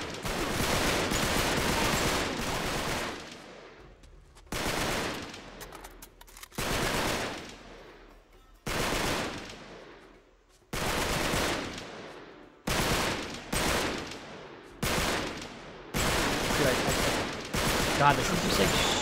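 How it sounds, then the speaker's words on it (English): Submachine gun fire in Uncharted 3, loud rattling bursts repeated about ten times with short silent gaps between, some bursts long and some clipped, with a voice faintly beneath. "this is what he was shooting. It's a little, like, submachine gun type thing."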